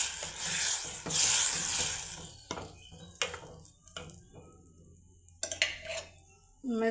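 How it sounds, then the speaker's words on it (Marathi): Cooked dal is poured into a pot over hot garlic tempering, with a loud burst of sizzling, then metal spoon scrapes and clinks against the pot, and quieter frying underneath. "आता आपण हे डाळ टाकून घेऊ."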